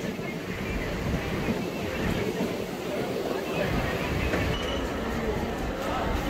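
A crowded suburban train rolls into Dum Dum junction, a steady low rumble and rattle of the carriages running throughout at moderate level, with passenger chatter and babble mixed in.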